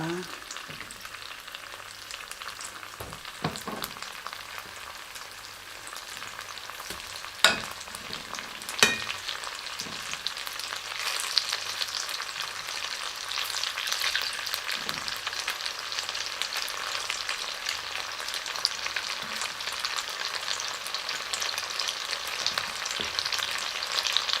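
Shrimp half-frying in a hot pan for a spicy shrimp dish with cherry tomatoes, giving a steady, loud sizzle with a few sharp pops and clicks of stirring throughout, no talking.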